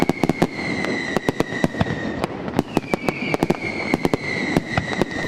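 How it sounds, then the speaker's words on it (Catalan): Fireworks burst over a night-time Sant Joan festival, a rapid run of sharp, loud cracks and bangs at irregular intervals over a steady crackling hiss, with a thin sustained whistle running through most of it. "el cel santjoanenc es va omplir de llums amb el castell de focs artificials"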